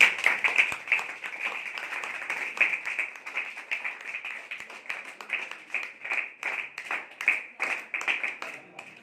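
An audience at a gathering claps for Sharmila in a steady run of many hands, moderately loud and sustained throughout with a slightly uneven rhythm.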